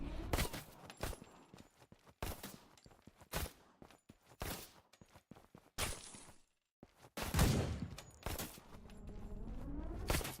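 Sharp gunshots in the top-down video game Suit for Hire ring out as a series of about eight separate bursts at irregular intervals, some with brief ringing tails, with short gaps of near silence between them.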